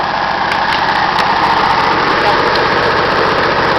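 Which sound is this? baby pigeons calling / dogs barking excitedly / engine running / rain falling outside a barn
engine running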